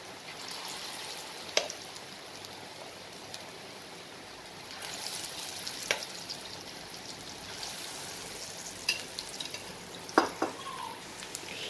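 Dal bora lentil fritters frying in oil over slow to medium flame, a faint continuous sizzle with scattered crackles and occasional ladle clinks, quiet and close.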